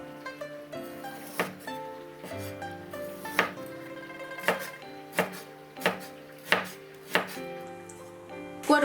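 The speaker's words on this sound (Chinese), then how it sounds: "切成肉丝。" A kitchen knife chops lean pork into thin shreds on a cutting board, giving a steady run of crisp, close strikes about every half second over soft background music.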